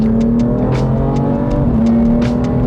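A BMW M4 accelerates hard out of a corner on an open road, its engine roaring loud and steady with a sustained drone close by and no voices.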